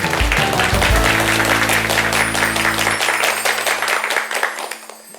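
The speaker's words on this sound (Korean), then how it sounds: "이 강도 박수로 청해 듣겠습니다" A studio audience at a televised lecture bursts into loud, dense clapping that holds steady and then thins out and fades over the last second or two.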